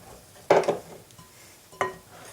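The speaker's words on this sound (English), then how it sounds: "Add a little bit, give it a good stir." Stirring flour into an oil mixture in a bowl for homemade pizza dough: two distinct scraping strokes of a utensil against the bowl, close and clear, with quiet pauses between.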